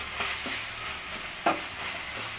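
Tomato and capsicum masala with turmeric, chilli and coriander powders sautés in a pan, a soft, fairly faint sizzle with a few scraping stirs and one sharper clack near the middle.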